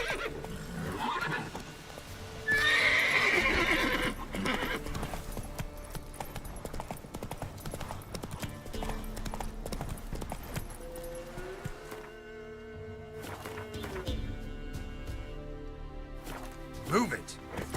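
Roach, the horse in The Witcher 3 video game, galloping with steady clip-clop hoofbeats and a whinny, mixed with game music and effects while a voice talks over it.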